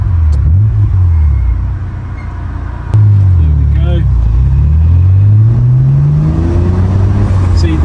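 A Fast & Furious car's engine rumbles low and loud, then climbs steadily in pitch as it pulls away and revs higher, with a brief gear-change dip partway through.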